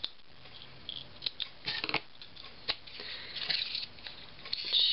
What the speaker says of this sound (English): I'm cutting an extremely messy hole, because all I want to do is snip this a bit.